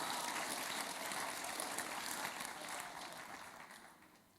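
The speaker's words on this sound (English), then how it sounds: "Good place to clap." An audience claps together in a dense, steady patter of many hands, loud at first and then gradually fading away.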